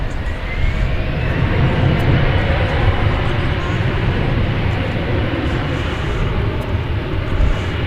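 A jet airliner rolls for takeoff on runway 18 left at Dallas Fort Worth Airport, its steady broadband engine roar distant and continuous through the whole stretch, with faint voices over it.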